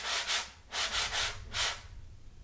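A hand brushes across the rough Renaissance-style head of a Layne Redmond frame drum, making a few soft, quiet swishing strokes in quick succession, with a short pause between them and near silence after.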